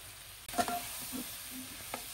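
Chaat masala and other spices frying in a pan for a home-style dish of sponge gourd with shrimp or chicken: a steady soft sizzle with a couple of brief stirring scrapes, close and fairly quiet.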